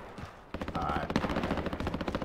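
Rapid automatic gunfire from a weapon in Call of Duty Modern Warfare, a loud sustained burst of quick repeated shots after a brief quieter lead-in.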